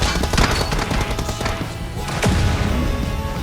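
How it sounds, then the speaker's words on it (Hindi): A vehicle explodes in the BGMI battle game amid loud, dense in-game gunfire: sharp bursts and a heavy blast thud over a continuous rattling barrage, close and loud throughout. "ब्लास्ट हुआ, गड्डी तो ब्लास्ट हुई"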